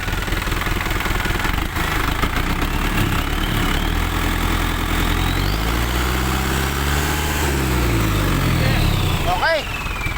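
Turbocharged Isuzu 4HE1 diesel engine idling with a steady, rough close-up rumble that swells as the revs rise and fall midway, with voices talking over it.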